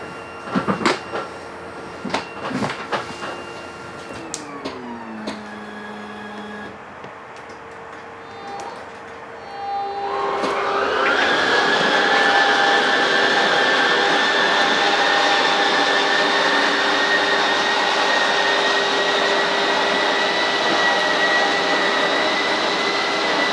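Slide-out motor on a 2020 RiverStone 39FK RV, a few clicks and a stepped whir that starts and stops, then a loud steady electric drone running for over ten seconds.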